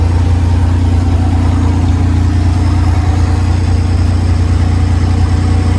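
A 1971 Ford F100 truck engine runs at a steady high idle, a loud, constant low rumble close by with an even pulse and no talking.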